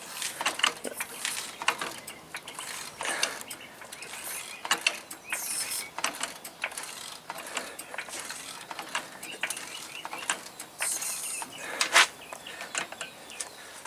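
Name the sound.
jacking up a big truck with a Harbor Freight jack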